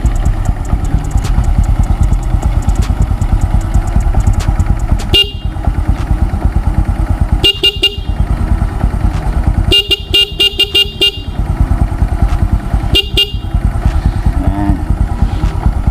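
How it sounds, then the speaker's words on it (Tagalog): A Honda XRM 125 motorcycle engine idles loudly and steadily while a blaring aftermarket dual horn honks in repeated bursts, some short toots and some longer blasts. "Yan po yung ating dual horn sa ating XRM 125."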